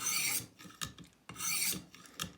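A knife blade drawn in forward strokes through a Stonehocker Kodiak sharpener gives two bright, rasping scrapes, each followed by softer scraping and small clicks, close and clear with no talking.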